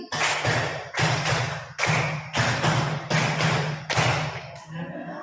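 A roomful of teachers at a junior high school gathering clapping in a counting clap game: six loud, regular bursts of group hand claps, each separated by a brief pause, close and with no talk over them.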